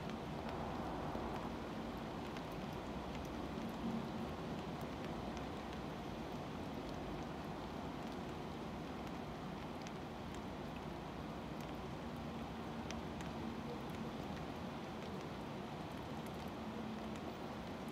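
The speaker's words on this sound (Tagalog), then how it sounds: "Sobrang lakas ng ulan." Heavy rain pours steadily on a Hong Kong street, a dense, even wash of rainfall with faint traffic-like rumble beneath and no voices.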